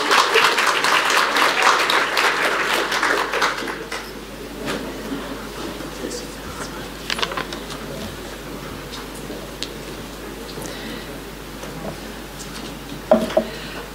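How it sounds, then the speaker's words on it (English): Audience applause at a primary care conference, strong for the first few seconds and then dying away to scattered claps and room noise. "Give them a round of applause."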